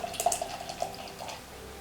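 Pineapple sour beer, a 4.5% ABV brew, pours from a can into a glass with a soft, steady trickle and faint fizz, quiet and brief.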